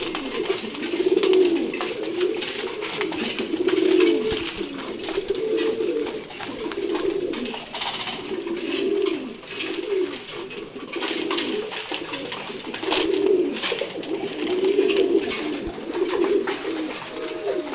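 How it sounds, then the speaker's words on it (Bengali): Domestic pigeons, including a pair with a male bird and a grizzle male, coo softly and repeatedly in a steady rhythm at close range. There are small background clatters and no talking. "চমৎকার এক জোড়া কবুতর"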